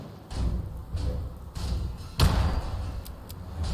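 A grenade in Fallout 4 lands with a few dull thuds and bounces but never explodes, one heavier thump standing out midway amid game background noise.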